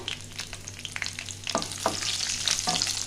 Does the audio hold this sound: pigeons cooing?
no